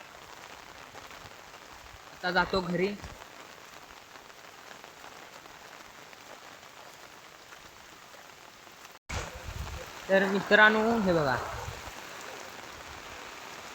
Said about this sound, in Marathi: तुम्ही बघितलं का आता पाऊस किती पडतोय कोकणात